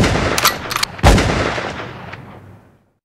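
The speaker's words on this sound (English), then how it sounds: "Shoot them both, Grady." Gunfire in a rap song: two quick loud bursts of shots, then a heavy, close blast whose reverberant tail fades into silence.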